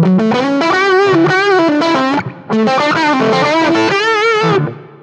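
Electric guitar through an Axe-FX III preset modelling a small tweed Champ-style combo with a fuzz effect, playing two loud, sustained distorted phrases separated by a brief gap.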